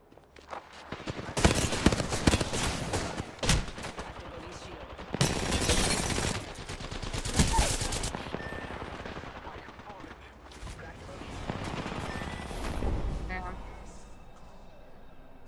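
Bursts of video game gunfire in a ranked shooter match, with loud rapid volleys around 1.5–2.5 s and 5–8 s and scattered shots between, set against a steady background of game sounds and faint voices.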